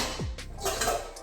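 Cooking pots are handled in an apartment kitchen, giving a brief, faint metallic clank and scrape with no talking.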